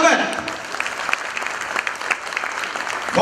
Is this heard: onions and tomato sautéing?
no